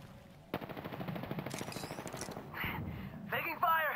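Steady rapid gunfire in Apex Legends, a dense string of shots running for a few seconds at moderate volume, with players talking and game effect sounds over the end.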